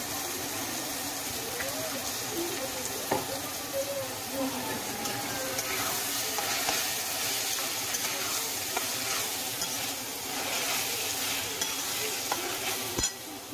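Tomatoes with ginger-garlic paste fry in a pan for paneer bhurji, giving a soft continuous sizzle with occasional spoon scrapes and one sharp click near the end, fairly quiet and close.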